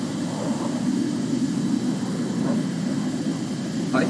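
An F11 Tiger model airplane flies past with a steady, droning engine whine under a rough, wind-buffeted rumble, carrying on at an even level with a couple of faint higher ticks.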